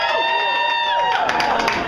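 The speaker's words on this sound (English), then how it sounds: "Couples cheer?" Couples in a comedy club audience cheer and whoop at a stand-up show. The crowd noise swells after a sustained tonal sound, with scattered claps and shouts in a brief, loud burst.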